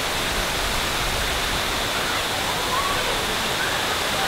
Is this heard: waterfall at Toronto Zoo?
yes